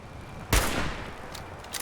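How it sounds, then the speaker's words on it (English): A sudden loud volley of gunfire erupts in a Fallout 4 battle at Far Harbor, one sharp blast followed by a rolling, decaying crackle of shots and a few fainter later pops. "Fire at will!"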